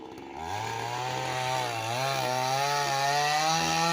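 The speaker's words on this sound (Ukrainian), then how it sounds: "Почули, пилка робить" A chainsaw cutting ash firewood outdoors, its engine droning steadily and loud nearby, pitch wavering slightly as it bogs into the wood, with no talk.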